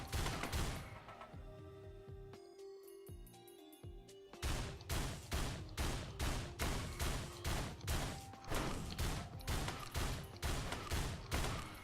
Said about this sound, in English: See how much faster I'm firing here.